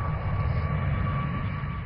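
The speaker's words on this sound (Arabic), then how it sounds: "أقلعت طائرة الركاب الصينية الكبيرة سي 919 من قاعدة يان يان للاختبار" Steady broadband roar of a C919 passenger jet's engines at the Yanliang flight test base in Shaanxi, loud and continuous with a faint high whine, no voices.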